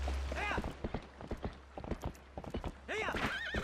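Clip-clopping hooves of Epona, the horse in the video game The Legend of Zelda: Twilight Princess, trotting with steady beats alongside whinnies and neighs, loud and close with game music underneath.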